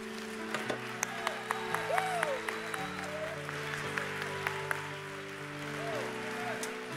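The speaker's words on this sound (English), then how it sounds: "Would you clap your hands as loud as you have all service?" A church congregation claps during a worship service, with steady applause running under sustained organ or keyboard chords and a few sharper claps standing out.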